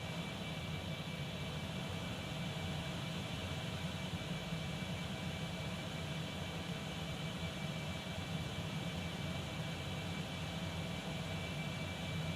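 Steady, muffled jet engine roar heard from inside the Concorde cabin in the X-Plane 12 flight simulator, a constant broadband drone at moderate level with no talk.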